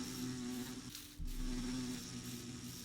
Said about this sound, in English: I didn't hit the bee, I swear.